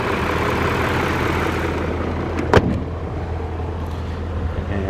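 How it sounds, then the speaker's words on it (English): A 2000 BMW E39 M5 engine idles with a steady, quiet low rumble, and a brief louder blip comes about midway through the clip. "take a listen to the car at idle"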